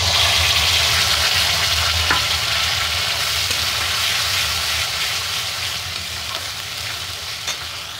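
Spice paste of fried whole cumin and spices bubbling and sizzling steadily in a hot pan, a continuous close hiss with a faint scrape of stirring, no voices.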